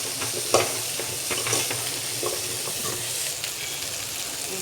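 Jackfruit seeds sizzle steadily in hot oil after mustard seeds have popped, with a constant close frying hiss and a few stirring scrapes, no talking.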